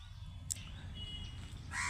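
A crow caws in a quiet forest, one sharp call early on and a louder, harsher call at the end over a low, steady background hum.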